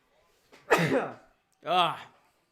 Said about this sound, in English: Little sneeze there, guys.